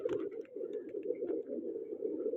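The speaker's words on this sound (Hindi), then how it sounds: "कबूतर देखो प्यारे प्यारे हैं" Pigeons kept by a fancier coo in a low, continuous throaty rumble close by, with faint chirps and small clicks scattered above it and no talking.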